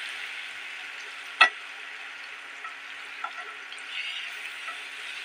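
Dry fruits and whole spices fry in hot oil for chicken tehari, giving a steady, soft sizzle with one sharp pop early on and a few faint crackles after.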